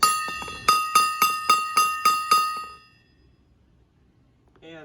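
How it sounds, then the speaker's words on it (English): A small gong on a homemade ABS acoustic sound wall struck with a mallet eight times in a quick, even rhythm, each bright metallic ring overlapping, then decaying into quiet. "a gong."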